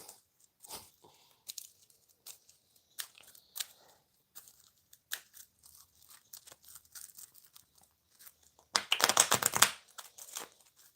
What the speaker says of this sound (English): We're going to shuffle this.